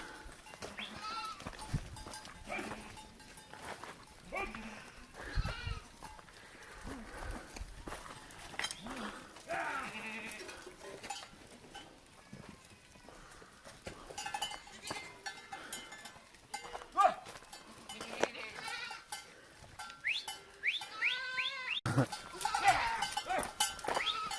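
Goats bleat repeatedly nearby amid cowbells clanking, while people talk intermittently over the animals, in Baja California.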